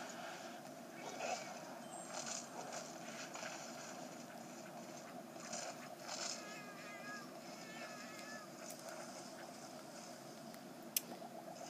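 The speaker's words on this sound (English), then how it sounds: "Oh, I hate those little cats. You always have to watch out for them." Small cat creatures in the Monster Hunter 4 Ultimate demo give faint, wavering meows in a short series, quiet against steady game ambience.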